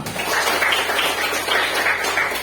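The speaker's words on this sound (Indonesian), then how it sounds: "Tepuk tangan dulu semua." A classroom full of people clapping steadily together, a dense, even patter of applause that holds for a couple of seconds.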